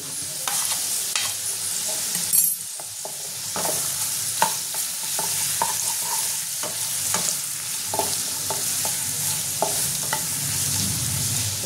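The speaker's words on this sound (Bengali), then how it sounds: "রসুন কুচিটা দিয়ে দেবো।" Chopped garlic frying with half-cooked potatoes in a pan, a constant close sizzle punctuated by regular scraping and tapping of a spatula as the mixture is stirred.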